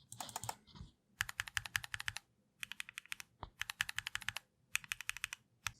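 Gateron LK V2 Black linear switches clack on a Keychron Q1 custom mechanical keyboard in quick runs of crisp keypresses, five or six bursts separated by short pauses, close and clear, with no voices.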